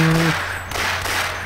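Gunfire in Half-Life in a sewer setting, a short burst of metallic shots over a low game hum, loud and close with no talk.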